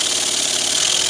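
Small twin-cylinder steam engine running on compressed air at about 25 psi, giving a steady, loud hissing whoosh with a fast even chuff close by and no pauses.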